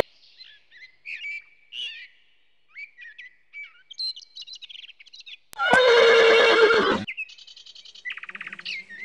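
An eventing horse gives one loud, drawn-out whinny lasting about a second and a half. Sparse bird chirps come before it, and softer rapid chirping follows.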